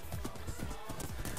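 Horse hooves clip-clopping in a multiplayer war video game, a fast, steady galloping rhythm heard close and loud through the whole moment, with game noise and voices mixed around it.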